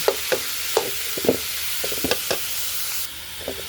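Freshly ground pork sautéed with garlic and onion in a pan, a soft sizzle broken by repeated spatula scrapes and stirring knocks at an uneven rhythm, up close with no voices.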